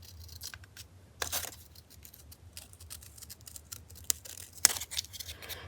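Scissors snip paper for a journal, a string of faint, crisp cuts at an uneven pace over a low hum, with one louder snip near the end.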